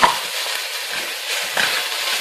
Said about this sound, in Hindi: मैं अब इसमें ये कीमा में डाल के फ्राई करूंगी